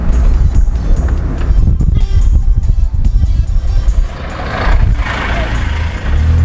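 Inside a Hyundai Santro, about 20 years old with a 55 bhp engine, a steady engine and road rumble fills the cabin while the car drives along. The sound stays loud and continuous throughout, with no talk.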